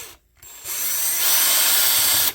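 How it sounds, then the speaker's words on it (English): A power drill whirs into a screw on an Allen and Heath ZED10/FX mixer during a teardown, after a brief pause, its motor rising to a steady, loud buzz. "I'm going to use my drill instead"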